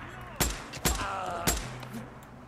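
Three sharp gunshots in the PS5 game Days Gone, close and loud at irregular intervals over a low game ambience, with a faint tone between them.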